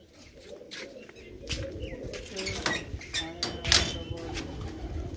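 Pigeons kept by a fancier in a Punjabi village coo softly nearby, with scattered chirps and a flutter of wings over faint background murmur.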